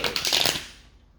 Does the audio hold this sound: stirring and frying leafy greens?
no